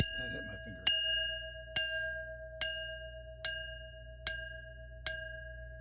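An antique bell, labelled HL183, is struck six times at an even pace, each strike a clear metallic ring that sustains and decays before the next, after some brief handling and faint speech at the start.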